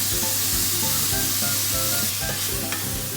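Mushrooms fry in wild garlic butter in a pan, giving a steady, close sizzle and crackle throughout with faint stirring and scraping, no voices.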